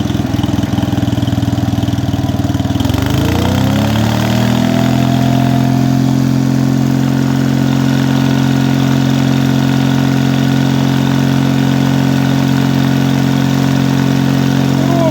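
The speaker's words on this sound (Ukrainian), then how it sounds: "робить він отак" A GAB 4T petrol generator, three-phase with three 220-volt outputs, starts up and settles into a steady, loud idling drone that runs without a break, with no talking.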